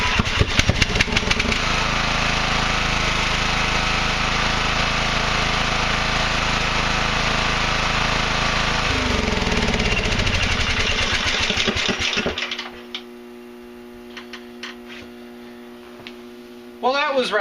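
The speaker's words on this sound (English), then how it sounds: "it ended up having the valve decide to come out of adjustment and backfired" Briggs and Stratton Intek single-cylinder small engine with a valve out of adjustment runs loud and steady, then its note sags and changes before it cuts out, leaving a humming tone and a closing burst.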